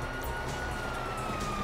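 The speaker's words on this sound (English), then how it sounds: "Hear that? Sirens!" A police siren in Grand Theft Auto V wails steadily in the distance beneath a dense background rumble, faint and continuous.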